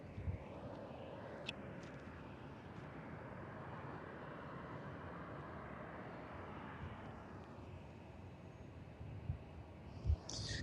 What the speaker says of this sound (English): That is Delta Connection, Flight 126A, heading to Denver, Colorado. It's an Embraer E175LR.